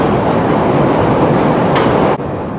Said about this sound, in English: Now it's about to get loud since the train's coming.